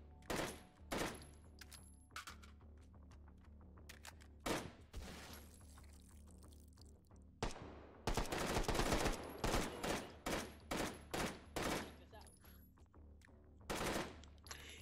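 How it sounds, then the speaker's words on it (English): Repeated shotgun blasts in Akimbo Pistol Parker, sharp individual bangs spaced a second or so apart, with a denser cluster of shots in the middle, fairly quiet overall. "Shotgun!"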